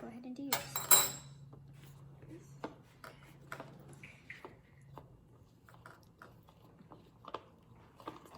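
Mini donut batter stirred in a bowl with a utensil, giving close clinks and scrapes against the bowl and one loud clatter near the start, then lighter intermittent taps.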